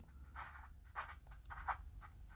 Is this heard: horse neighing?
no